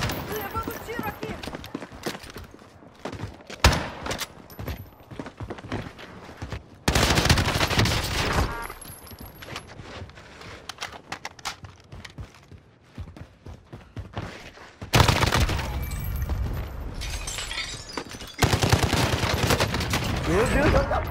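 Video game gunfire in rapid bursts, like automatic weapons, breaking out in loud dense volleys between quieter stretches, with players talking over the shooting.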